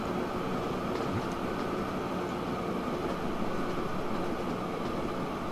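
A train runs steadily along upgraded track in the Train Fever game, with a continuous loud rolling rumble and faint wheel noise filling the whole stretch, no talk over it.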